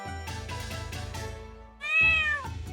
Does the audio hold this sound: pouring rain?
no